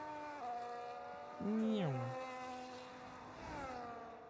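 A high-revving car engine whines with sharply rising and falling pitch as gears change, loud and close, a brief swoop near the middle.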